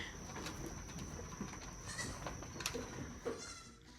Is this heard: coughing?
no